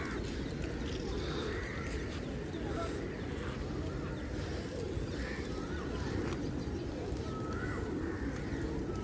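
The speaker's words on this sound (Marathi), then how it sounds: "सकाळ सकाळी गेट वे ऑफ इंडिया किती कबूतर आहेत" Morning pigeons at the Gateway of India in Mumbai, soft cooing and bird calls scattered over a constant wash of outdoor ambience and distant water noise, fairly faint throughout.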